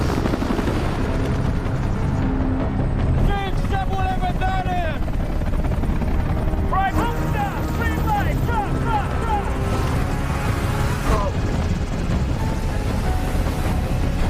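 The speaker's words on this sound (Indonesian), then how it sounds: "Mereka pun akhirnya berangkat menggunakan helikopter melewati hutan yang lebat" A helicopter flies over dense jungle in an action film about American special forces, its steady loud rotor drone continuous throughout, with intermittent music and effects layered on top.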